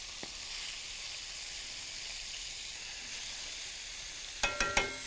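Chicken livers frying in a covered pan give a steady, soft sizzle and hiss throughout, with a few sharp pops bursting out near the end.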